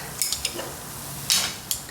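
Anchovies stir-fried on their own in a pan for an anchovy and shishito pepper side dish, with a utensil scraping and clinking in a handful of sharp, irregular strokes over a faint sizzle.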